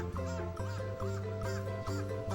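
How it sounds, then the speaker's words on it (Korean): Birds calling outdoors in a steady, dense chorus of repeated harsh squawks, with a constant low drone beneath them throughout. "까마귀가 지금 뭔 일이 있나봐"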